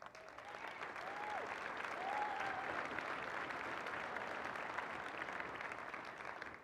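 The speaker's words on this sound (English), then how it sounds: "Notice Air Force got applause" Applause fills a hall during a mayor's State of the City address as the Air Force is recognized, a steady, moderately quiet sheet of clapping with a couple of faint whoops, lasting several seconds.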